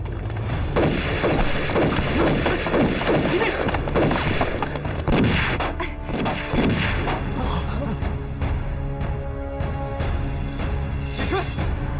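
Gunfire in a Chinese anti-Japanese war film, during a prison rescue scene: loud, booming shots and crashes over a dense, continuous action soundtrack, with sharp bursts clustered in the first half.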